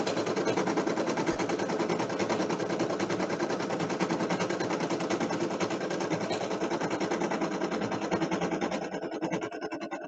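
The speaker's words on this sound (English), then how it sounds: "I almost sewed the whole bag together without putting my label on." A sewing machine stitches a bag in a steady, rapid mechanical whir that runs continuously and close for about nine seconds before slowing near the end.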